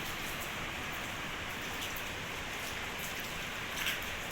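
Steady rain pours down in the mountains near Dharamshala, a continuous even hiss of drops on surfaces that holds at a constant level throughout with no voices.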